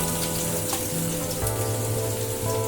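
Chopped garlic frying in hot oil with fenugreek seeds in a pan for restaurant-style egg tadka, giving a steady close crackling sizzle throughout without any talk.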